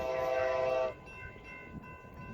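An Amtrak Pacific Surfliner northbound passenger train at Lompoc, California sounds a loud, sustained horn for about a second, then fades to a quieter low rumble.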